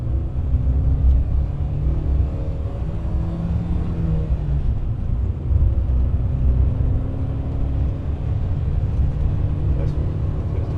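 A Porsche 924 Turbo engine drones and rumbles steadily from inside the car while driving, the pitch shifting gradually as it pulls, with people talking over it.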